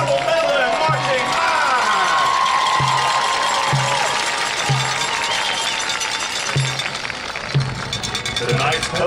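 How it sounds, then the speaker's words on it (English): Crowd applause at a high school football game for the Cabell Midland Marching Band, a dense sustained clapping wash with steady rhythmic drum hits underneath, loud throughout and tapering slightly near the end. "let's give one more resounding applause for the best band in the land, your Cabell Midland Marching"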